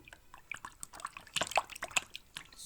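Water splashes and drips in soft, irregular bursts while a llama is bathed indoors, close and fairly quiet, with small sloshes and trickles.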